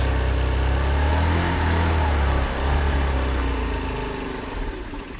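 A Chinese scooter engine idling sluggishly with a dirty carburetor, a steady close mid-pitched motor drone that dips and wavers briefly partway through before running on unevenly.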